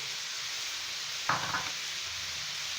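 Tomatoes go into chicken sizzling on a tawa, giving one brief burst of hiss and clatter over a constant frying sizzle that stays steady and close throughout.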